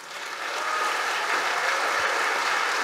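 An audience at an award ceremony applauds for award-winning scientists, a dense, sustained wash of clapping that rises quickly and holds steady, with no voices over it.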